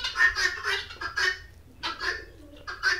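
Hens on a poultry farm squawk and cackle in short, loud bursts, one call following another, close to the listener, with no talk.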